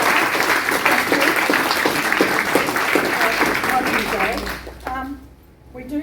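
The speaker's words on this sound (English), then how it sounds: "I think we should have another round of applause for everybody" Sustained applause fills a book presentation audience, steady dense clapping that thins and fades near the end as a voice begins speaking over the tail.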